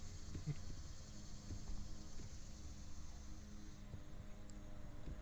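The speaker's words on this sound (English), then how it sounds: "Crickets, cicadas, locusts. I don't know. Something that's noisy." Noisy insects, crickets or cicadas, drone in a steady faint background chorus that runs through the whole stretch with no talk.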